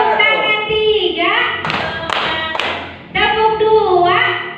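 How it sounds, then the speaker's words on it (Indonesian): A group claps hands together in short bursts, three sharp claps in quick succession in the middle, with a voice speaking before and after them. "Tepuk tangan tiga."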